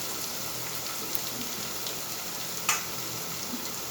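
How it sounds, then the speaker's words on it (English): Onion, tomato and ginger sauté in a pan with a steady, quiet crackling sizzle, faint and even throughout, with a couple of small sharp pops. "We'll saute it till it turns translucent."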